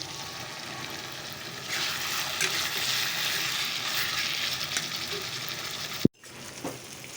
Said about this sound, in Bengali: চলো চিকেনটাকে কষিয়ে নিই